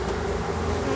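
A honeybee swarm clustered in a backyard tree gives off a dense, steady, close buzz with no voices.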